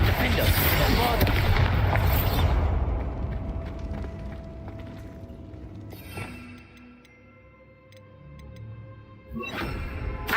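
Spell blasts in Hogwarts Legacy: a loud, dense burst of explosive crackling and booming at the start, settling into rumbling debris and softer impacts, then a fresh sharp blast near the end, with a voice shouting over parts of it.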